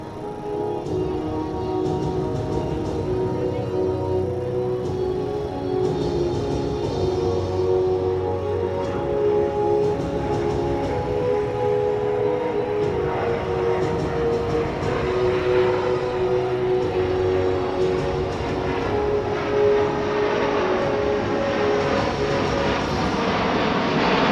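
A C-17 Globemaster III military transport jet flies at the Dover AFB air show, a loud sustained engine roar with steady tonal whine that holds throughout, heard alone without talk.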